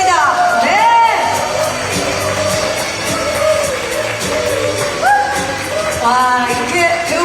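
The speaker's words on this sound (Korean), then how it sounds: "자, 여러분 강현성 감독님을 박수로 모시겠습니다" A crowd whoops, yells and cheers loudly at a Korean production press event for a Disney+ series, welcoming the director onto the stage, with excited voices rising and falling throughout alongside a host's talk.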